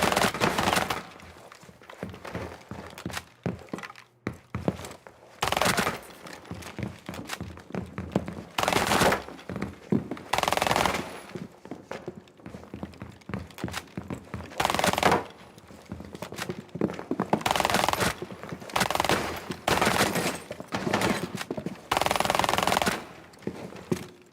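Video game gunfire in a shooter with noticeable muzzle rise, rapid bursts of close, loud shots in repeated strings with short pauses between.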